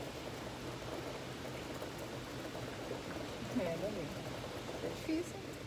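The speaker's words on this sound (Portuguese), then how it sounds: "Olha o toró aqui, você viu, mamãe?" A heavy rain downpour hisses steadily as broadband noise, with a few faint voices briefly surfacing midway.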